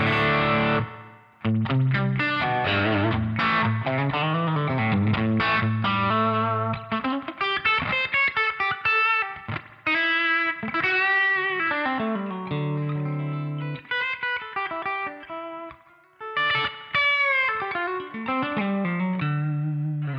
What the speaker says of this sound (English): We'll just bring that spring reverb in just so it's not so bone dry